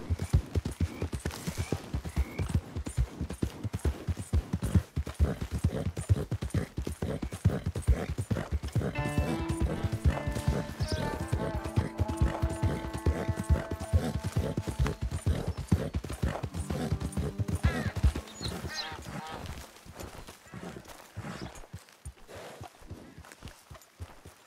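Horse hooves clip-clop in a quick, steady gallop in Red Dead Redemption II, loud and continuous, with a brief tonal music passage rising midway before the hoofbeats carry on alone.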